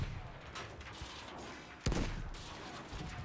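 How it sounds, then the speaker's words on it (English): Cannon fire in Battlefield V, a couple of heavy blasts, the sharpest landing near the middle of the clip, set against a constant rumble of battle noise at moderate distance. "I'm being shot by the other cannon"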